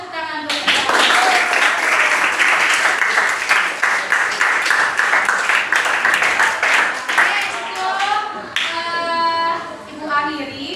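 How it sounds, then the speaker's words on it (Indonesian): A classroom of students claps hands together in a counted rhythmic pattern, bursts of claps recurring steadily and fairly loud, with voices chanting and talking over it toward the end. "tepuk 1, tepuk 2, tepuk 3, tepuk 4, 1, 3, 2, tepuk tangan bersama"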